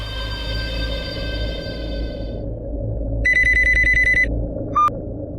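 A telephone rings as a call is placed, an electronic tone pulsing in quick regular bursts over a steady low background hum, followed by a short beep near the end.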